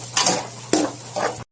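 Onion and garlic sauté in hot oil for baked macaroni, a close sizzling hiss punctuated by three stirring scrapes of a utensil in the pan.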